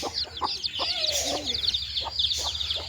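Native country chickens cluck and murmur close by in short, irregular calls over a constant low background hum.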